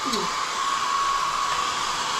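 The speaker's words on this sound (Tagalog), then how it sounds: "Ganito dapat mag-blower ka." A handheld hair blow dryer running steadily with a constant airy whoosh and a thin high whine, close and loud, no one talking over it.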